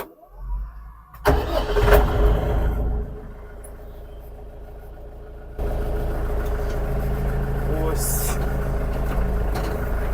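A tractor fitted with a potato hiller starts on a rain-soaked potato field. A few clunks and a cranking burst settle into a steady diesel idle, which thickens as it begins to move off.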